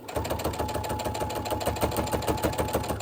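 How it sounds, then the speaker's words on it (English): A sewing machine stitches down quilt binding in a steady, fast mechanical chatter with an even rhythmic pulse, close and continuous with no voices. "And now I'm sewing down,"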